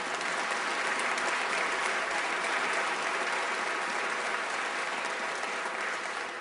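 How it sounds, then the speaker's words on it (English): Audience applause during a governor's State of the State address, a loud, sustained, even roar of clapping hands that holds steady throughout. "That's worth an applause."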